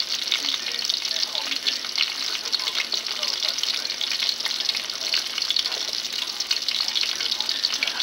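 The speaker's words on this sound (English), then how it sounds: "So I'm frying chicken." Steady, dense sizzling of chicken frying in a pan, loud and close, with a continuous crackle and spatter throughout.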